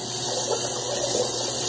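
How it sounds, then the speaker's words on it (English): Warm water runs steadily into a salsa bowl in a bathroom shaving setup, a close, continuous gushing hiss with no speech. "I'm going to fill up my salsa bowl with warm water"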